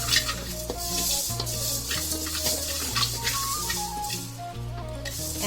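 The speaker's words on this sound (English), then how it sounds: "now we are adding 3 tablespoons of coriander seeds" Coriander seeds roasting in a pan for Mangalore chicken sukka masala powder, a steady close sizzle with scraping stirs running throughout, alongside a soft background hum.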